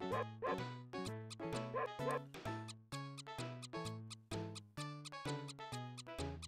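A chiptune-style dog barks repeatedly in the SNES game SimAnt, a series of clipped, synthetic yaps in a steady rhythm, loud and close with no talking.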